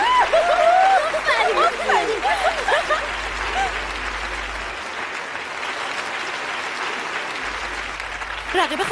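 An audience applauds a singer at a singing contest, a dense wash of clapping under chuckles and crowd chatter that starts strong and then thins out, with voices heard over it.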